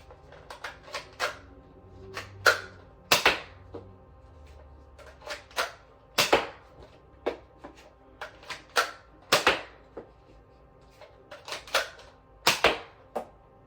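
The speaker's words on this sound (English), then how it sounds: "Starting with the Covert Team Blaster with the included orange hero darts." Hero Combat Covert Team toy blaster shooting orange foam darts, giving a quick series of sharp snapping pops spaced about a second apart, close by with no voices.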